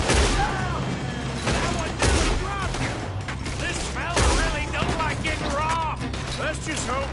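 Heavy gunfire in Red Dead Redemption 2, with loud, continuous volleys and sharp cracks layered together, and ricochet-like whines throughout.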